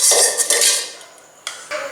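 A home cooking pot is rubbed with ghee for hilsa biryani, making close, loud scraping and rubbing bursts against the pot's metal that fade and then return in short strokes.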